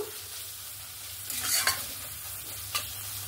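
Ground spices such as chili and cumin powder frying in a pan for a fish-head cabbage dish, with a soft steady sizzle and a few brief scraping stirs of a spoon, quiet and close.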